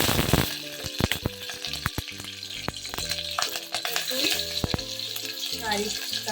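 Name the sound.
cumin seeds added to hot oil in a pot, sizzling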